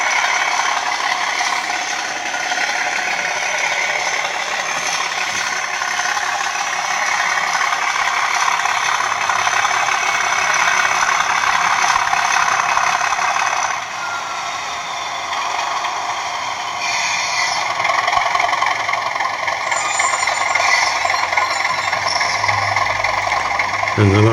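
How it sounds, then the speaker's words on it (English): A model train locomotive runs steadily with a continuous mechanical whirr and rattle, then ends with a short automatic brake squeal. "And a nice little brake squeal at the end, which is automatic."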